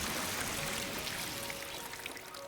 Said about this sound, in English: a massive quantity of cryptoglobin spewed out from my mouth. It was like a waterfall, even a geyser.